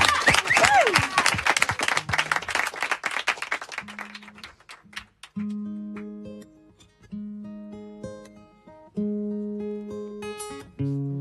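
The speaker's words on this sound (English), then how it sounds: "Big round of applause." Audience applause at a Treehouse Sessions music night greets the performer, a crowded burst of clapping that thins out over the first few seconds as sparse, sustained instrument notes begin and carry on alone.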